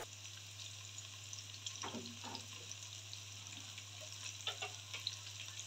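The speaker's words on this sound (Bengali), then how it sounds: "প্যানে গরম তেল দিয়ে তারপরে রসুন, তারপরে বরবটি কুচি দিয়ে দিলাম" Garlic and chopped long beans fry in hot oil in a pan, giving a faint, steady sizzle with a few soft stirring clicks over a low background hum.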